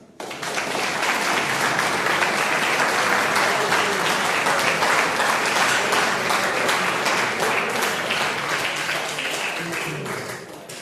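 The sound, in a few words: applause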